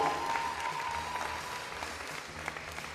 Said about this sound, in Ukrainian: Бурхливі оплески нашим спортсменкам та їх тренерам.